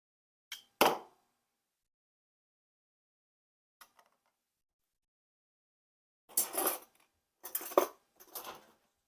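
Tomato paste added to a pot of hamburger soup: a few sharp metal clinks and knocks of a utensil against the pot, then gaps of quiet and a cluster of louder scraping clatters near the end.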